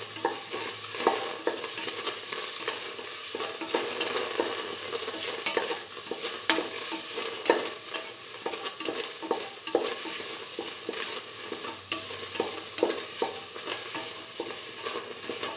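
Semolina sautéing with cardamom pods in a hot pan, a steady sizzle overlaid with frequent scraping stirs of a utensil, close and continuous throughout with no voices.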